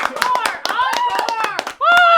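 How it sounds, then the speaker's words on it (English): A few people clap in quick, close, uneven bursts under excited talking voices, ending as one voice rises alone. "I say claps for that."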